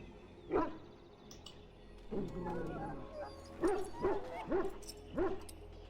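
A sick, formerly aggressive dog in the PC video game Dragon Age: Origins gives several short yips and whimpering barks, one early and then a cluster of four near the end, fairly close and clear with no talk over them.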